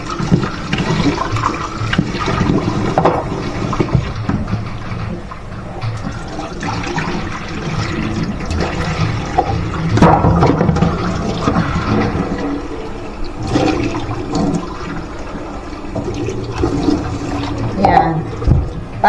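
Rice being washed in a kitchen under running water, a loud, continuous splashing and gushing stream with bursts of sloshing and churning, no talk.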